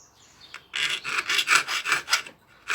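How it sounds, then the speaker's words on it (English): A three-cornered file rasps back and forth across wood, shaping a cupid's bow after a hacksaw nick, in a steady series of about eight close, even strokes with no talking. "Get a 3-cornered file,"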